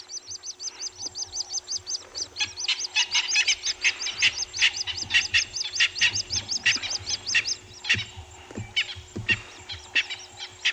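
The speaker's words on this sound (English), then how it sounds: "Beautiful evening sounds here. The francolins, puffing hippos, doves, of course." Francolins and doves calling at evening on a game reserve, a loud, rhythmic chorus of repeated harsh cackling calls that builds and continues steadily, with softer cooing and low rumbles beneath.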